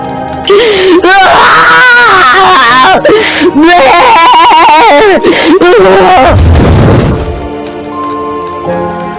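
A woman being burned by fire wails and screams loudly in long, anguished, wavering cries, with gasping breaths between them, close and intense, fading into a rough hiss at the end.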